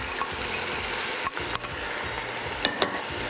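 Cowboy stew of smoked sausage rings, onion and diced carrots being stirred in a pot, a soft steady sizzle with a few sharp clinks and scrapes of the spoon against the pot, close and alone.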